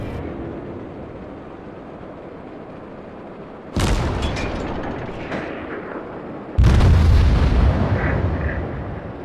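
Warship guns fire in World of Warships as a naval battle plays out: a low rumbling ambience, then a sharp heavy salvo boom with a long ringing tail, and a second, louder deep blast a few seconds later, with no talk.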